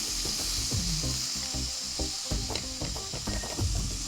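Raw rice stirred and sizzling in hot ghee in a pan, a steady close frying hiss broken by repeated scraping and rustling strokes of the stirring spoon, with no voices.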